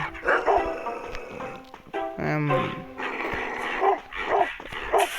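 Dog barking inside the mobile stealth game Robbery Bob 2, short yapping barks mixed with game sound effects and a player talking over them throughout.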